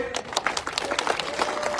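Villagers clapping loudly in welcome of a visiting politician, a dense burst of many hands at fairly close range, with no talk over it.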